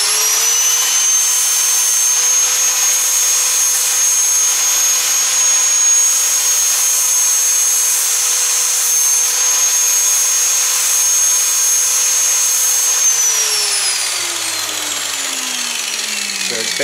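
A disc sander grinds a tungsten electrode for TIG welding, giving a loud, steady high-pitched motor whine and grinding hiss close by that slowly winds down near the end.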